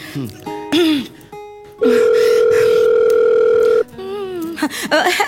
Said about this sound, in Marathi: मी त्यांना जरा फोन करते